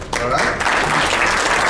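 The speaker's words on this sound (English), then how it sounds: "Let's give a big round of applause for our guest." A room full of people claps for a returning guest at a commission meeting, a dense burst of applause that rises quickly and stays loud, with a brief spoken remark at the start.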